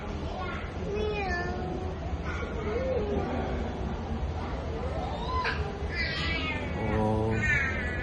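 A white cat at Ma Wan gives several rising meows, some drawn out and wavering, over a steady crowd murmur, with other voices chattering nearby.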